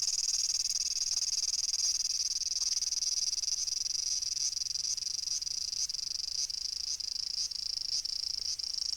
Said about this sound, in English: The cicadas were annoyingly noisy.